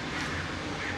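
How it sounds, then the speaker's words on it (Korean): Crows cawing in a German city around Frankfurt, a brief harsh call or two rising over steady background noise. "저 까마귀 소리 들으면"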